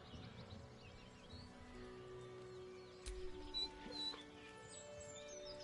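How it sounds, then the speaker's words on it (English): A dog whining beside a corpse in Baldur's Gate 3, faint thin whimpers over a quiet game ambience with a soft thump midway. "With a deep, heartbroken whine, the dog bows his head."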